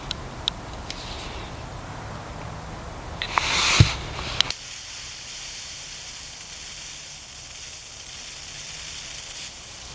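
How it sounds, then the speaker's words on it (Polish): Electric arc lighter held to a wooden stick outdoors, crackling and ticking briefly before a hissing burst as the stick smokes and catches fire, followed by a steady faint hiss. "Patyk zaczyna dymić, po chwili pali się."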